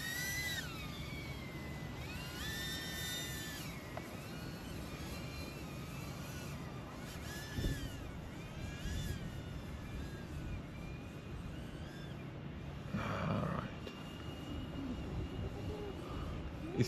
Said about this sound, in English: I'm gonna fly this way a bit, just because I want to see my drone.